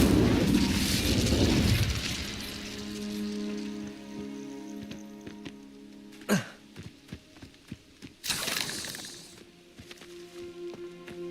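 Incendio fire spell in Hogwarts Legacy, a loud roaring whoosh of flame at the start fading out, followed by scattered sharp impacts and another burst near the end.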